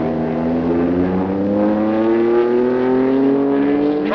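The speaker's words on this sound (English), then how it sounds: "the Foyt Ruby Ford overdoes it, but not seriously, and is right back in action" Race car engine at the 1967 12 Hours of Sebring endurance race drones loudly and steadily, its pitch climbing smoothly as it accelerates, with no other sounds clearly standing out.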